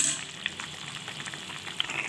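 Curry with cauliflower and potato fritters bubbles in a pan, giving a soft, steady simmering hiss with a couple of small pops close by.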